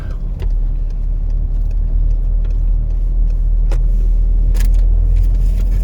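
A BMW car driving close behind on the road, its engine a steady loud low rumble throughout with a few brief clicks and bumps.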